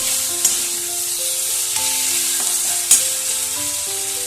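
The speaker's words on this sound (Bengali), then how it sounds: "সবগুলো ধনে পাতাটা দিয়েও একটু নাড়াচাড়া করে নিচ্ছি" Fried potatoes with coriander leaves being stirred in a hot pan: a steady bright sizzle with a few sharp spoon scrapes and clinks, close and alone, with background music tones.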